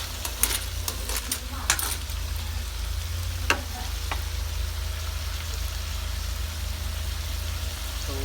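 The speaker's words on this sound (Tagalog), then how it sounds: "gigisa lang muna natin" Sautéing in a pan for a clam dish, with a steady low sizzle throughout and a few sharp clicks and scrapes of a utensil early on, moderately near.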